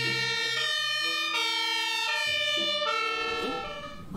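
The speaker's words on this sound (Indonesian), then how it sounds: "Ada mobil pemadam kebakaran." A toy fire truck's electronic siren plays close and loud, a stepped wailing tone pattern that cycles several times before fading slightly at the end.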